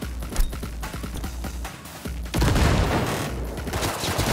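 An enemy opens fire in Cyberpunk, a sustained barrage of close, loud gunshots crackling in rapid succession, thinner at first and then swelling into a dense, continuous volley.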